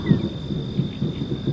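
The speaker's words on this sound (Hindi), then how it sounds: "और ऊपर गरजते बादल" A brief low rumble of thunder rolls in soft bursts, distant and fairly quiet.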